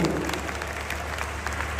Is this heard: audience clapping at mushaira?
yes